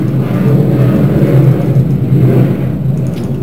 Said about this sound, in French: Excusez-moi si vous avez entendu l'avion